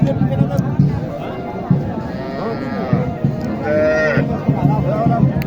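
At a village cattle market in Naogaon, a cow gives a couple of moos amid busy crowd chatter and people talking nearby. The calls are short and mid-loud, with steady market noise underneath.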